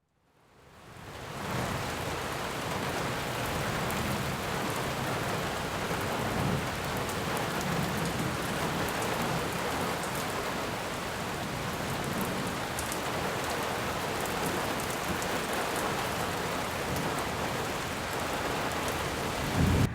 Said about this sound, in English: Rainstorm come through today